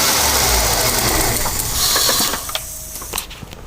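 Ford EF Falcon engine at a rough idle with a suspected fuel-injection fault, a loud mechanical clatter and ticking that stumbles and drops away as it falters, close up with no voices.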